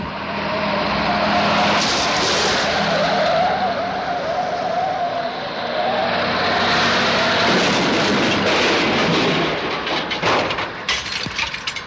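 A speeding transporter vehicle roars along and skids into a turn, a loud, sustained rushing engine and tyre screech that swells, eases and builds again before ending in rattling, clattering sounds, with no talk.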